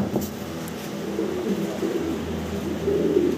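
Low, soft cooing from fancy breeding pigeons rolls along in short repeated phrases, fairly close, over a faint background hum.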